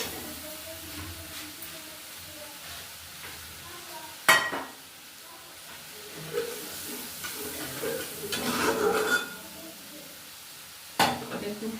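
Bitter gourd curry simmering in a village kitchen pan after a little water is added, a soft continuous sizzle with occasional sharp clinks and scrapes of a spoon against the pan.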